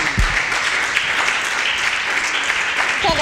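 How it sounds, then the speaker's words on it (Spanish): An audience at a forum with Mesoamerican women human rights defenders gives steady, dense applause, a loud continuous wash of many hands clapping with a brief voice near the end. "Un aplauso, por favor."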